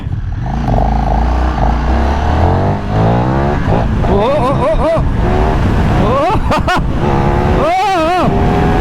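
A KTM 1390 Super Duke R motorcycle launching, a loud engine roar rising and falling through revs with sharp gear-shift dips, heard close with heavy wind noise, and a voice partly over it.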